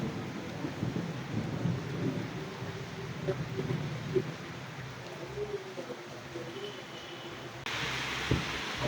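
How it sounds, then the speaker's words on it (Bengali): Steady rain falls through a windy evening, a soft continuous hiss with a low background rumble and a few faint knocks, with no one talking. "অনেক সুন্দর বৃষ্টি হচ্ছে"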